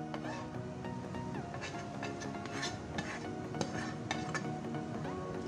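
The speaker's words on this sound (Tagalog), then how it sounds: "sa isang lalagyan po ay isalin natin o i-transfer ang ating niluto" Cooked leftover vegetables are scooped from a pan into a container, making a steady run of soft scraping and light clinks of a utensil against metal, faint and close, with a low sizzle underneath.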